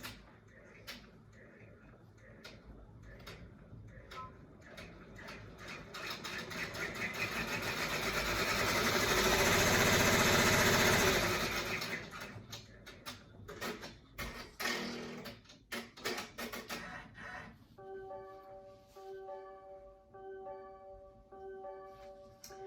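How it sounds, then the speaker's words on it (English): An embroidery machine stitching a placement line on fabric for a face mask made in the hoop, a mechanical whir that swells to a loud, steady run midway, then fades into ticking and clicks and a few short beeps. "the next step is to sew the stitch sequence number 1 to stitch a placement line for the fabric"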